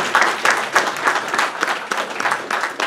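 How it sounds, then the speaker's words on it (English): Audience applause for candidates at a 2016 Chamber political forum, a modest crowd clapping in a lively, uneven patter for a few seconds, close and moderately loud with no voices over it. "Let's all give them a big round of applause."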